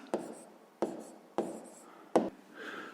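Writing by hand while working a sixth-grade math exercise: four soft, separate pen strokes tapping and scratching close by on paper, spaced under a second apart, in a quiet room without talk.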